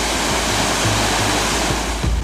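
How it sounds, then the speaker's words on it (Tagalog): A waterfall in Gabaldon, Nueva Ecija, fed by mountain water from the Sierra Madre, roars in a steady, dense wash of rushing water, close and loud throughout. "pwedeng magdampisaw sa malamig at malinis na waterfalls sa Gabaldon"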